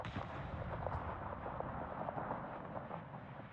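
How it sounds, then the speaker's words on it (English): Battleship main-gun fire in the naval video game World of Warships, a dense rumbling barrage of booms and crackle, steady and fairly quiet throughout, with no speech. "the battleship's just shot at me"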